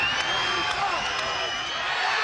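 A basketball crowd in Nelson, New Zealand, roars and whoops at a Nelson Giants home game, a continuous loud wall of cheering with a few sharper shouts rising above it.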